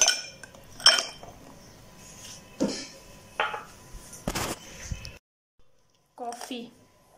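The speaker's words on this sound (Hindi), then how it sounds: "अब हम इसमें ऐड करेंगे आइस क्यूब्स।" Ice cubes dropped into a glass while making Dalgona coffee, giving several sharp separate clinks and clatters with short pauses between them, ending in a quiet gap and one last clink.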